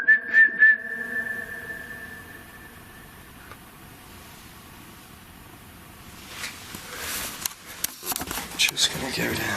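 A person whistles a few short notes inside a colliery tunnel at Astley Green Colliery Museum, echoing briefly, followed by quiet hiss and then scuffling movement and a voice.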